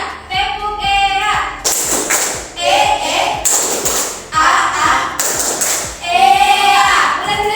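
Children in a classroom clap together on a teacher's count, a steady run of sharp taps and claps mixed with voices chanting and talking over the beat.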